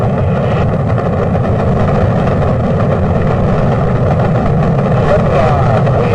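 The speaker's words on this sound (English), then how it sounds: "Liftoff on Apollo 11." The Apollo 11 rocket engines roar at liftoff, a dense, loud, continuous rumble with no break.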